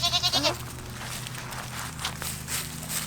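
A goat bleats in a rapid wavering burst at the start. Footsteps and rustling on a farm follow, close by.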